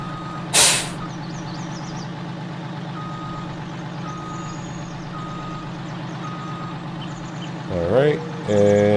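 In Farming Simulator 19, a truck with a trailer reverses with a steady engine drone and a regular beeping reverse alarm, a sharp air-brake hiss early on and another burst of brake and engine noise near the end.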